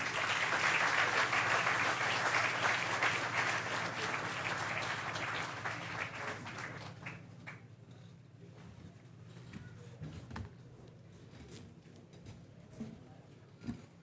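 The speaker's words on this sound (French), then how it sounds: "On l'applaudit encore" Applause at an official Bastille Day ceremony, a dense crowd clapping that is strong at first, then thins and fades over about seven seconds, leaving quiet room noise with a few scattered claps.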